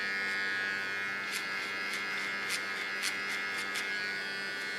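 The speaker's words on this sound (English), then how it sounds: "And that what I don't need, I take off with a clipper." An electric hair clipper trims hair at the neckline during a pixie bob haircut, giving a steady close buzz with soft, brief crisp cutting sounds over it.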